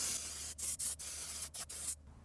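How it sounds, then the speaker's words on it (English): Brake parts cleaner sprayed onto a car's brake area during a stripped bleeder screw replacement, heard as several sharp close hissing bursts of aerosol in quick succession, each cut off cleanly, with no talking. "Now I'm gonna clean this area with brake parts cleaner."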